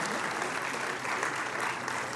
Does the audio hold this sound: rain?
no